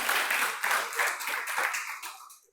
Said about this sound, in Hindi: कुछ तालियां तालियां बजा दीजिए अब एक बार आकाश के लिए